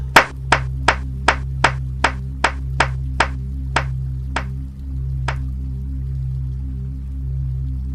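About a dozen sharp hand claps ring out in a steady rhythm over a low constant hum, then stop, leaving the hum alone.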